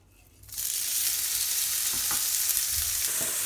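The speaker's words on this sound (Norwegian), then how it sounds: "Da gjenstår det bare å steike dette deilige kjøttet" Meat salted with smoked salt hits hot oil in a pan, bursting into a loud, continuous close sizzle that holds steady after a quiet start.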